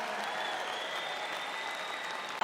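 Audience applause for 57-year-old strongman Mark Felix of Blackburn, Lancashire, a steady, even roar of many hands clapping at a strongman show that ends abruptly.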